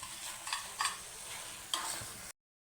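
Raw papaya halwa with sugar-ground cardamom powder is stirred in a pan, with soft repeated scraping strokes and a gentle sizzle, fairly faint, ending abruptly in silence.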